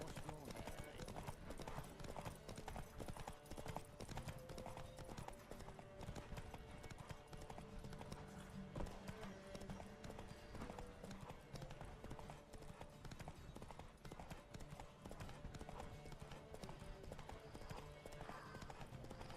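Galloping hoofbeats pound through a horse race in The Witcher 3, a fast continuous clatter heard close up under occasional voices and a brief whinny.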